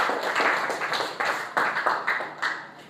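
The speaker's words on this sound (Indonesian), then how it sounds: "tepuk tangan buat kalian semua yang udah bisa jawab" A class of students clapping together in a classroom, a short burst of fairly close, uneven hand claps that rise and fall in loose rhythmic clusters, with no talking over it.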